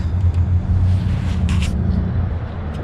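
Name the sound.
car driving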